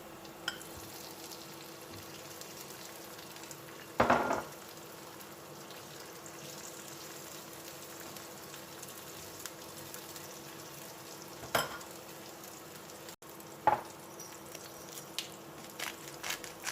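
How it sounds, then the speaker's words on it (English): Artichokes frying in a pan with golden aromatics, a low steady sizzle with a few brief stirring clatters, heard alone without talk. "When they start to turn golden, now is when you can add the artichokes."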